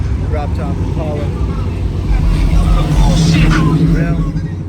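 A drop-top Chevrolet Impala rolls past at a Bay Area cruise night, its engine a steady low rumble that swells slightly as it nears, amid street noise.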